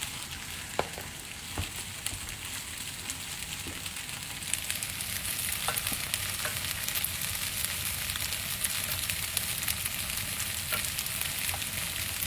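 Ginger paste stirred into a broth in a pan, giving a steady, fairly close sizzle and fry with soft crackles and occasional utensil clicks that runs on alone without pause.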